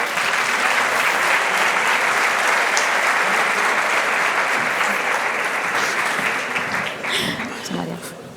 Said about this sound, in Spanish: Así que un fuerte aplauso